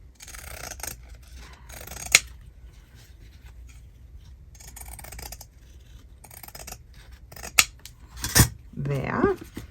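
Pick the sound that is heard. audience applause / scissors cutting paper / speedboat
scissors cutting paper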